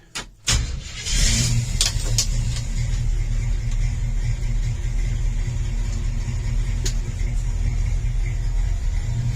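A 1963 Chevrolet C10 pickup's 350 V8 engine turns over and settles into a steady, deep idling rumble that continues loudly throughout, with no talking.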